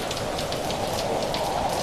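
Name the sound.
rain outside recorded through microphone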